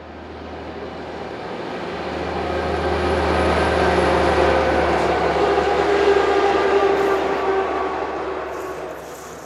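A light engine movement of several locomotives, including a BB 67200 diesel and an infrastructure-liveried engine, rumbling past on rails. The heavy engine drone swells from a distance, stays loud and close through the middle, then eases slightly as it passes, with no voices.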